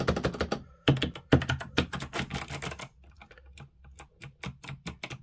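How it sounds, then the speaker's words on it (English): Rapid typing on an 8BitDo C64-style mechanical keyboard with micro switches: dense bursts of crisp clicky keystrokes, close and fairly loud, a short pause, then sparser individual key taps, with no voices. "So this particular keyboard is a mechanical keyboard."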